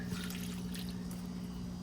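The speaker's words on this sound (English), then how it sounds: "that is some really good water that I can come and then just use it to water my plants. Like this pepper here." Collected water is poured onto a pepper plant in a greenhouse garden, a soft, continuous trickle and splash. It stays quiet over a steady low hum, with no talk.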